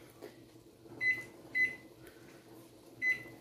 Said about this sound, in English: So I'm going to turn the timer on to 60 seconds.